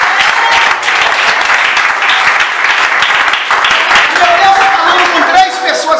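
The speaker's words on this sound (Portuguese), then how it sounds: "Bate o palmas" A church congregation claps loudly and continuously during a worship service, with voices and shouting mixed in throughout.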